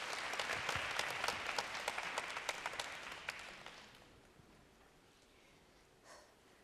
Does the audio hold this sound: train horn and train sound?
no